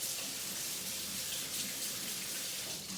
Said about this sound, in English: I'm gonna go give my hands one more rinse